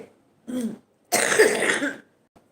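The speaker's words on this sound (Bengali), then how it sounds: "আমার একটু কাশি আছে" A woman coughs twice indoors, a short cough followed by a longer, harsher cough with throat clearing, close and loud with silence between.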